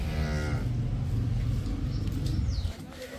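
Cows at a dairy farm moo in a loud, close, drawn-out call lasting nearly three seconds, followed by faint background noise.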